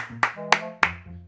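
Hands clap three times, sharply and close, to praise a pet meerkat that climbed a staircase. A low tonal hum runs underneath the claps.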